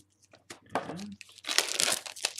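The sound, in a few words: crumpling Magic the Gathering booster pack packaging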